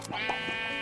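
Sheep in the Minecraft video game give a short, wavering bleat, heard clearly and alone over a steady game backdrop.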